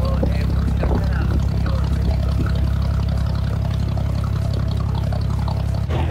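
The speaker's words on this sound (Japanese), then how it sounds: "渡し船で着きました。" A ferry boat crosses the creek in Dubai, its engine a steady low drone with water splashing, continuous and fairly close, with faint voices mixed in.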